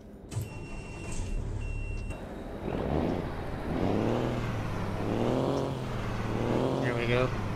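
A truck in American Truck Simulator starts up and pulls away, its engine rising and falling in pitch as it revs through gears, heard up close beneath someone talking.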